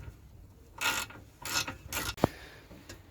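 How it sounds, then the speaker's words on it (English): A car drive shaft fitting being tightened by hand during CV boot work, heard as several short, close rasping and clicking mechanical bursts with pauses between them and no talking. "I'm just going to tighten this by hand for now, and we'll torque it up in a bit."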